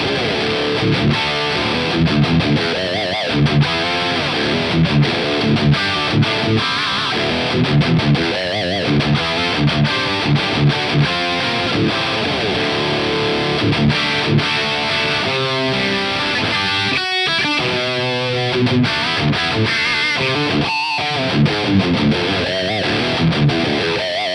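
Heavily distorted electric guitar through a BluGuitar AMP1 Iridium amp plays a continuous gritty riff, loud and sustained, with thick crunchy tone and occasional brief breaks between chords.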